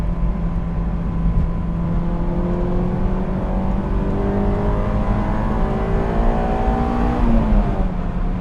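A Honda S2000 (AP1) sports car engine revs and climbs steadily in pitch as it accelerates, loud and close, with a rising whine over a deep rumble.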